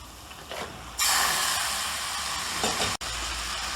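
About three-quarters of a kilo of washed mutton drops into a hot pan for a gravy served with ghee rice, setting off a sudden, loud, steady sizzle that hisses on with only a brief break.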